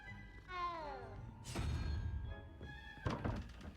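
A cat in Hogwarts Legacy gives a short, close meow with a falling pitch, followed by soft thuds and a second brief cry.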